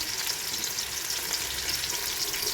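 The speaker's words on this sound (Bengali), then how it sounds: "তেল দিয়ে দিচ্ছি এখন একটু গরম হওয়ার পরে পেঁয়াজ দেব পেঁয়াজ কুচি তেজপাতা" Chopped onion and bay leaf fry in hot oil, giving a steady, even sizzle that runs unbroken and fairly close at moderate volume, with no voices.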